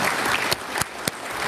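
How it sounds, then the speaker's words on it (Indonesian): A crowd applauds in a hall during a parliamentary hearing of the DPR RI, a dense burst of clapping with a few sharp louder claps standing out. "Tepuk tangan untuk kita semua."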